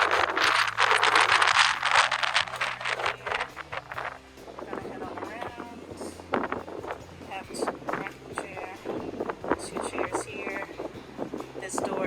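Gusty wind buffets the microphone on a cruise ship suite balcony aboard Carnival Celebration, a rumbling roar that dips and rises while a person talks over it throughout.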